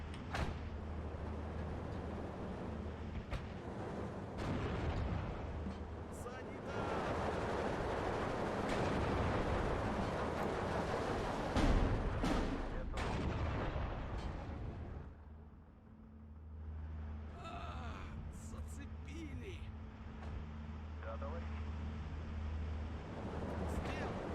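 Mortar fire from 120 mm tubes in the wartime strategy game Steel Division 2, a Soviet campaign battle at Iasi, heard as repeated heavy booms and sharp blasts within a continuous rumbling battlefield din, with someone talking over it.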